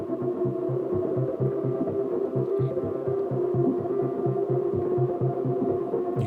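Pro 3 synthesizer sequence with no extra distortion, a loud rhythmic pulsing pattern of repeating low notes that builds steadily as the filter opens, with no talking.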